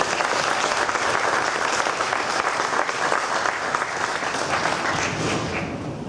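An audience at a live reading event gives loud, sustained applause throughout, dense clapping filling the space with a few scattered cheers, tapering only slightly toward the end.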